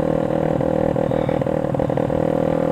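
A motorcycle fitted with a CLD aftermarket exhaust runs loud and close, giving off a steady, raspy idle drone with a fast pulsing throb and small rev blips. No voices are heard.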